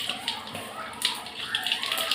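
Mustard seeds splutter and pop in hot oil for paruppu rasam, a close, continuous crackling sizzle with scattered sharper pops.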